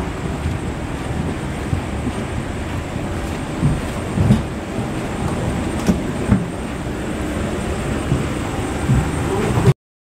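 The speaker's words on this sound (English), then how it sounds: "I'm on a plane." Steady broadband cabin roar of an airliner in flight, a constant low rumble filling the background throughout with a few brief louder bumps; no one speaks in it.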